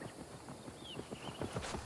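Horse hooves clip-clop at a walking pace in Assassin's Creed Valhalla, a steady run of soft, fairly quiet hoof falls drawing closer.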